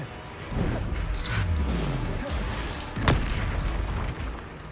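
A fire spell cast in Hogwarts Legacy, a brief whooshing burst with a low boom around mid-clip and a sharp crack near the end, over steady game background sound.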